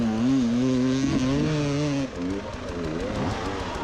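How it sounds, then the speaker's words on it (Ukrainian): An enduro motorcycle at a country-cross championship, ridden with a burned-out clutch, revs hard nearby, its engine note climbing and dipping in waves before easing off into a lower, rougher drone. "Звук мого мотоцикла"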